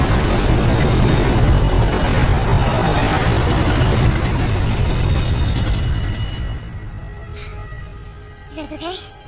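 A subway train rolls loudly past, filling the space with a dense rumbling roar that slowly fades, and metal wheels squeal thinly near the end.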